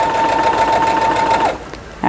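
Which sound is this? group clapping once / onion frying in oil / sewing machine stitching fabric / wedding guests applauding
sewing machine stitching fabric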